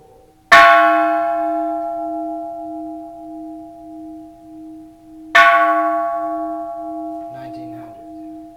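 A bronze Japanese Buddhist temple bell struck twice, each loud strike blooming into a long, slowly pulsing hum; a third strike lands at the very end, with a brief faint rustle between.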